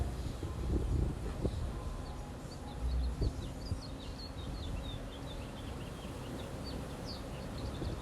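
Small birds chirp and twitter in short, repeated high calls outdoors during meditation, faint and somewhat distant over a soft steady background hiss with a few low thumps.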